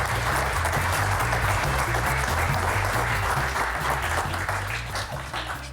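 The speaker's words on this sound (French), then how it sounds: "Bienvenue à Alban Herrings sous vos applaudissements." Steady, dense audience applause filling a hall as a guest is welcomed on stage, loud and continuous before fading slightly at the end, with little talk.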